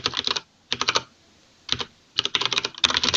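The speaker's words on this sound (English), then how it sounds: "just continue typing in the examples that we had" Fast typing on a computer keyboard, entering Haskell code examples: close, crisp bursts of rapid key clicks separated by short pauses, with no voice.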